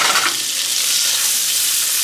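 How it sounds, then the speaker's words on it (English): Onions and peppers sautéing in a pan, a loud continuous sizzle right up close for a brief moment, with no talking. "I'm just gonna saute this"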